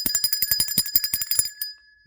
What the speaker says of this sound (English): Let's ring the bell for that.